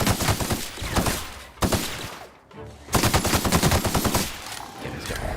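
A gun in The Outer Worlds fires in rapid automatic bursts, dense loud rattling volleys broken by a short pause before the shooting resumes, close and unaccompanied by talk.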